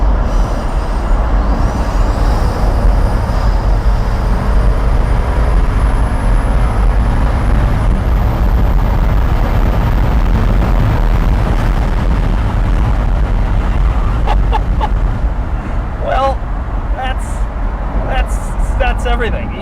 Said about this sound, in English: That is just about the angriest sounding and feeling car that I've ever been in.